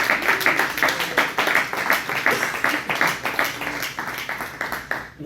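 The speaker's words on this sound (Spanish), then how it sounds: "Denle un aplauso al Señor." A church congregation applauds together in a steady run of quick, rhythmic claps that carries on for several seconds at moderate volume, fading slightly at the end.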